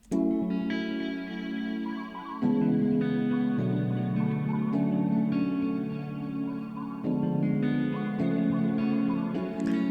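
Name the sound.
R&B beat with chopped vocal, chords, guitar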